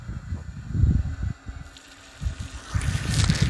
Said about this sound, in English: Well, I hear water moving.